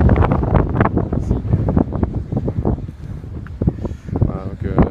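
Strong wind buffets the microphone on the Soufrière volcano in Guadeloupe, a loud, continuous roar with gusty surges, heard under nearby talking.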